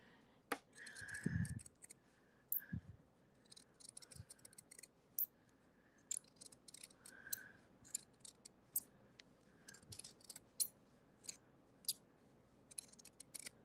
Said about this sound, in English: It sounds like my scissors need a little bit of lubrication.